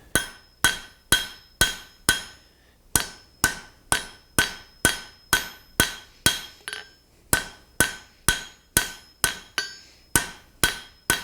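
Blacksmith hammering a hot steel rod on an anvil to forge a taper: a steady run of about twenty sharp, ringing metallic blows in even rhythm, each strike decaying before the next, close and alone.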